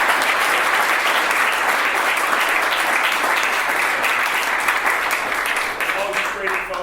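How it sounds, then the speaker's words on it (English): Audience at an evening real-estate meetup breaks into loud, sustained applause, dense clapping filling the room and slowly tapering off near the end. "big hand applause."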